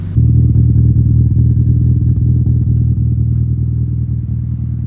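Toyota 7AFE engine fitted with individual throttle bodies idles loud and close, giving a steady, lumpy rumble with slight unevenness throughout and no change in pitch.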